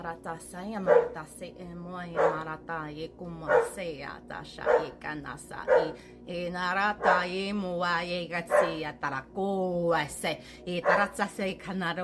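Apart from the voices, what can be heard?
dog barking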